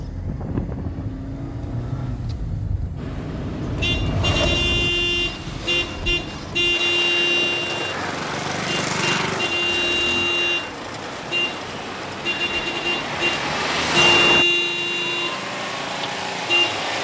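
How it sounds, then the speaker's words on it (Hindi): A car horn honks again and again in a series of short and longer blasts over steady road traffic and engine noise, loud and near. "इतनी देर से हॉर्न दे रही हूँ, सुनते नहीं है"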